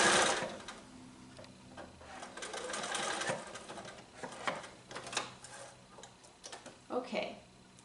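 A domestic sewing machine stitches quilt binding strips with a quarter-inch seam, its motor whirring in bursts with rhythmic ticking needle strokes, stopping and starting; brief talk is heard alongside.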